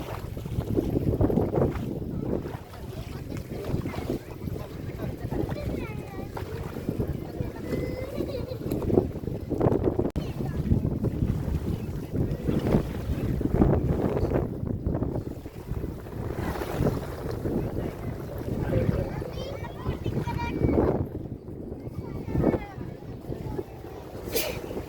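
A boat moving across the open water of Dhom Dam lake, a steady low rumble mixed with wind buffeting the microphone, with faint voices in the background.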